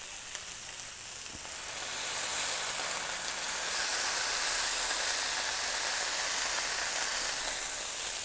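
Smash burger patties are pressed flat on a hot griddle, giving a continuous, bright sizzle that swells after the first couple of seconds and then holds strong and even, with no talking.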